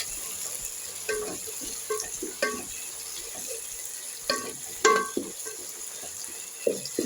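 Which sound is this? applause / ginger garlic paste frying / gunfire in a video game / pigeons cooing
ginger garlic paste frying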